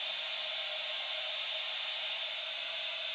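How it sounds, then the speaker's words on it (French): A baby's plush toy plays a steady, fairly high-pitched white-noise hiss, like a hair dryer or vacuum cleaner, unbroken and even throughout with no voices. "on a un autre bruit qui pourrait ressembler soit à l'aspirateur, soit au sèche-cheveux"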